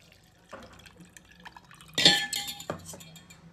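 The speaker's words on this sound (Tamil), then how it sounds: "இந்த அளவுக்கு வடிகட்டி எடுத்துக்கணும்." Herbal kashayam drink strained with warm water in a home kitchen, with a few liquid splashes and drips and clinks of metal vessels, one louder pour-and-clatter burst in the middle; no talking.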